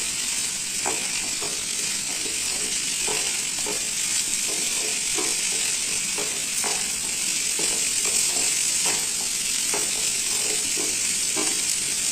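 Rice and lentils stir-fried in spices for veg khichdi give a constant bright, hissing sizzle, close and steady, broken by regular light scrapes of a spoon against the pan.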